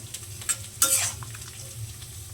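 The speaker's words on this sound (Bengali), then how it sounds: "তো এটা কষাচ্ছি আমি।" Garlic, onion paste and tomato sauté in a pan, giving a low continuous sizzle with a few scraping strokes of a utensil and one brief louder scrape near the middle.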